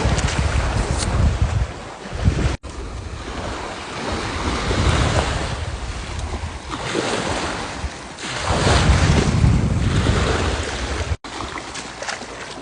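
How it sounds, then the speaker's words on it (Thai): Strong wind buffets the microphone while waves roll onto a sandy beach during cast-net fishing, a loud continuous roar that swells and eases with the gusts, with no talk. "แล้วตอนนี้ลมมันแรงด้วย"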